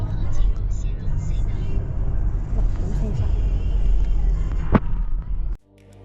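A steady, loud low rumble from inside a car driving in a three-car convoy toward Mount Kailash in Tibet at dawn. Voices murmur underneath, one sharp knock sounds near the end, and then the noise cuts off abruptly.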